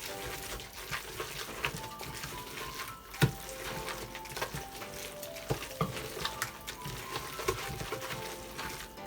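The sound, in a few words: stirring carrot cake batter with a spoon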